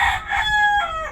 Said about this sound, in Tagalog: Nagtugtuga akong manok, anak.